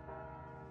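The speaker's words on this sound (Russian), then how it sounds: "Колокольный звон, что это значит?" Church bells from the video game Anna's Quest sound as a sustained ringing tone with rich overtones, a steady resonant hum at moderate level with no voices.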